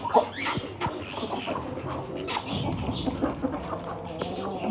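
Chicken and other fowl clucking and cooing close by in a continuous busy chorus, with a voice occasionally audible underneath.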